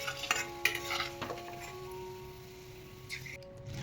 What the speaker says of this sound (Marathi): इथं आपल्याला त्रिफळा तळून घ्यायचा आहे